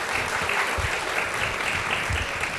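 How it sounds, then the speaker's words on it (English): An audience gives applause to four panelists on stage at a climate finance conference, a dense and steady wash of clapping from the crowd lasting the whole stretch. "Big round of applause for 4 panelists on the stage."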